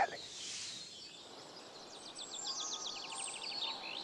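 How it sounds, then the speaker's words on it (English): Faint birds chirp and trill in the distance over a quiet forest clearing in Germany, with a rapid run of repeated high notes toward the end. "you hear the birds chirping"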